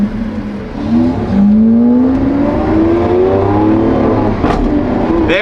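A Lamborghini SVJ engine pulls hard while driving in the cold, a loud, close rising drone that climbs smoothly in pitch through the gears, with a brief shift near the end and no talk.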